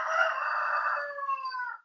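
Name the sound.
rooster crowing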